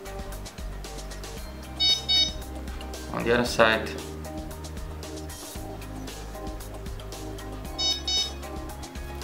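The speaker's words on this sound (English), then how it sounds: "First axis is calibrated, then other way around until you hear a beep." SkyDrop device beeping during compass calibration, short bright tonal beeps appearing twice in a pattern, moderately loud, under a person's ongoing narration indoors.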